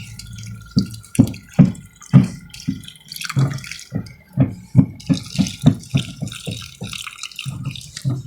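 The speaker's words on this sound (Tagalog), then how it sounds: "bubuhos ko na tong salt water" Salt water is poured onto sand for a homemade sand battery, giving a run of close, rhythmic wet splashes and drips that come in quick pulses for several seconds with no talking.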